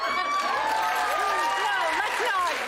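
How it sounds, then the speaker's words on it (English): A television talk-show studio audience cheers and claps continuously at close range, a steady wash of crowd noise with scattered whoops throughout. "No, let's not cheer for this."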